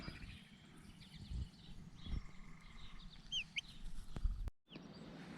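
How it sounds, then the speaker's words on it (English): A chicken clucks softly and intermittently nearby amid quiet outdoor background, with a few brief bird-like calls. "I have one of my chickens following me around."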